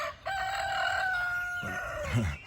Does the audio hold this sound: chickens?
yes